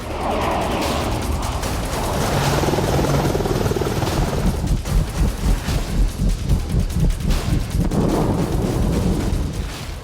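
Military helicopter rotor thudding loud and close throughout, with rhythmic blade chop growing more pronounced midway, heavy low-frequency rumble, no voices.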